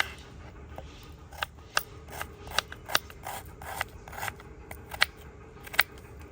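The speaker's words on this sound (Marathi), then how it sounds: "कांदे कापून घेऊ" A knife works through onion being chopped finely for a vegetable masala Maggi, a steady run of crisp close cuts against a board with no talking.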